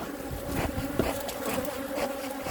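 A dense, steady buzz of a honey bee swarm in an empty brood box close by, with droning hums rising and falling and no voices.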